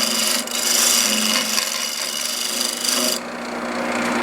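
A lathe tool scrapes and hisses against spinning wood, a bright rasping cut that stops abruptly near the end, leaving a quieter hum.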